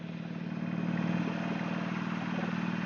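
Motorbike being ridden on a road, its engine holding a steady low drone that rises slightly and stays constant, with wind rush over it and no speech.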